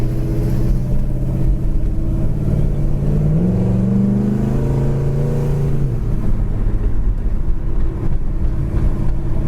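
A 1971 Chevrolet Chevelle Heavy Chevy drives along with a deep, rumbling engine note, loud and close, the pitch rising through a brief acceleration midway before settling back to a steady cruise.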